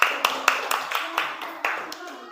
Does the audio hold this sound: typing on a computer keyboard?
no